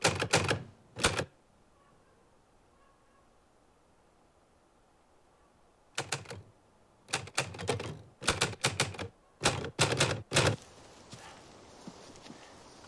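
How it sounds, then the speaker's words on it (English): Typewriter keys clatter in rapid bursts during a World War II TV drama scene set on the way into Belgium, with quiet gaps between clusters of strikes. "So that typewriter scene"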